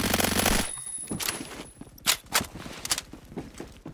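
An M231 gun firing in the Phantom Forces video game: a dense automatic burst at the start, then scattered lighter clicks and clanks, close and mid-loud, with no talking.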